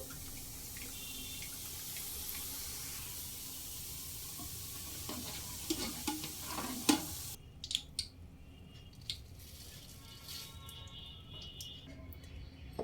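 Drops of bonde batter fry in hot oil for a sweet-shop style bonde, a continuous soft sizzle with scattered pops and clinks midway, fading to a quieter hiss.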